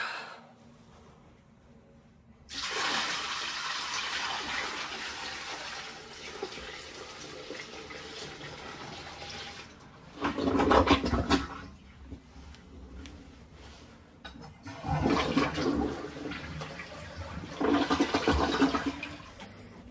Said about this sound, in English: I wouldn't normally just throw it into the customer's toilet, but he said it was fine to drain it there